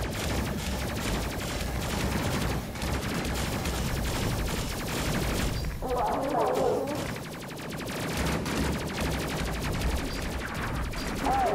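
Dense, continuous video-game gunfire fills the whole stretch, with rapid bursts, crashes and impacts in a sci-fi shooter crew mission, loud and unbroken, with a voice faintly underneath.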